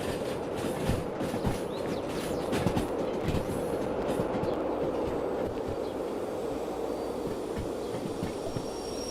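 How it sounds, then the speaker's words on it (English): A caboose rolling on rails in a train simulation video game, a continuous rumbling clatter with irregular clicks and thumps, steady and fairly close, with no talking. "realize my caboose was still rolling."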